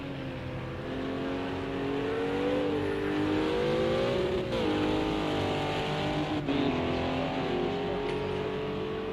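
Race car engines roar at Sonoma Raceway in a racing video game, with steady high revving, pitch sweeps through gear changes and a sustained loud drone.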